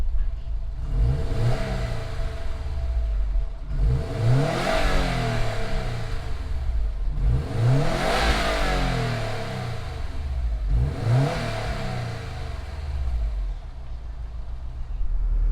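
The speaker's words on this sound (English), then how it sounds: "fire it up, and hear that boxer rumble sound." A 2019 Subaru WRX STI boxer engine revs four times in repeated rising sweeps over a steady rumbling idle, loud and close with no talk.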